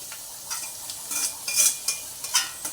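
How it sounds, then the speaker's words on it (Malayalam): Cooked clams are added to a hot pan and stirred, giving soft sizzling with scattered scraping and clinking strokes of a utensil, close and moderately quiet. "ഇത് നമുക്ക് വേവിച്ച് വെച്ച കക്കാർച്ചി ഇടാം."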